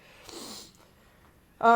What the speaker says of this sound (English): I know you just heard that sniffle